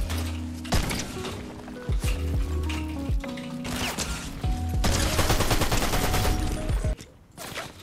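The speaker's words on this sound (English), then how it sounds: "Okay, I'm getting shot from below the map." Rapid bursts of automatic gunfire in a video game, loud and dense, crackling almost continuously over a busy game soundtrack with a brief lull near the end.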